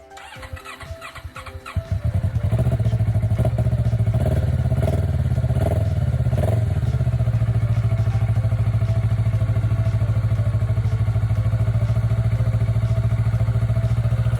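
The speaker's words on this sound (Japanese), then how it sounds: "3ヶ月全くエンジンかけてなかったのにちゃんとかかりました。" A Kawasaki Ninja 400R motorcycle, unstarted for three months, cranks on its starter for about two seconds, catches, and settles into a loud, steady idle that runs on alone.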